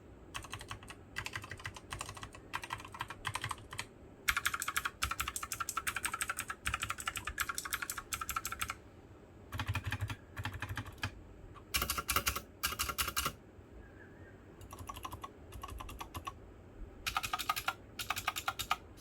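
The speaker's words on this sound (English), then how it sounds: "some reference in sound between a brown switch keyboard and a blue switch keyboard" Clacky mechanical keyboard typing on a Keychron K8 with brown and blue switches comes in quick bursts separated by short pauses, close and crisp in an otherwise quiet room.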